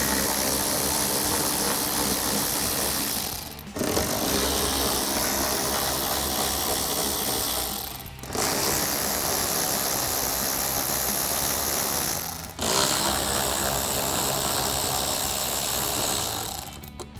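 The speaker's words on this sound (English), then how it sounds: "we'll grab a 7mm socket to get them out" A 7mm socket on a ratchet backing out bolts from the inside lip of a 2021-2023 Ford F-150 fender, a loud continuous mechanical whirr that breaks off briefly three times between bolts.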